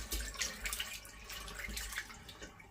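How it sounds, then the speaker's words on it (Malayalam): Kitchen tap left running to rinse ingredients while preparing chilly chicken, a steady, quiet hiss and splash of water pouring into a sink. "ഈ പൈപ്പ് വെള്ളം തുറന്നിട്ടിട്ട് നന്നായിട്ടൊന്ന് കഴുകിക്കേ"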